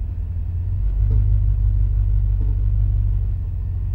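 A truck engine runs steadily as the truck pulls out of a home garage, a loud, close, low rumble that holds even throughout with a slight swell partway, and no talking.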